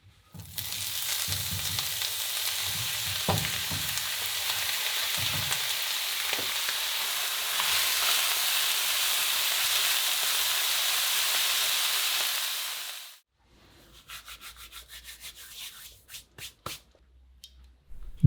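Oyster mushrooms fry in lard in a pan on a stovetop at medium-high heat, giving a loud, continuous sizzle with occasional stirring scrapes that cuts off abruptly, leaving faint crackles and quiet clicks.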